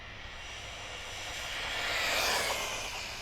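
A fast RC truck on a 3S battery runs past with a steady high-pitched electric whine that swells as it nears and fades slightly, with no talking.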